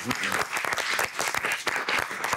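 Audience applause in a television studio show, dense continuous clapping throughout, fairly loud with some crowd noise mixed in.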